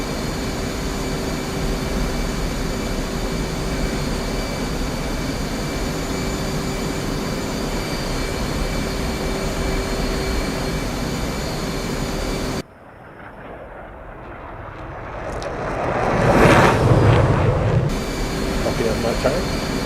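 A jet aircraft in the DCS flight simulator rumbles steadily on final approach with gear down, then the noise cuts out sharply and a rising whoosh swells and fades, with radio voices under the engine.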